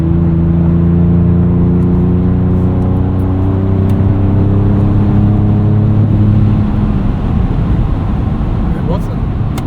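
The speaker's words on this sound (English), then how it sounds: "Still really nice close gearing with that 10-speed automatic." A Ford Raptor pickup truck with a 10-speed automatic accelerates hard, its engine note climbing and stepping down through quick, smooth gear changes, loud and close throughout.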